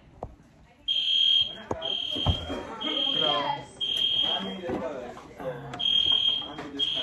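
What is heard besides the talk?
fire alarm sounding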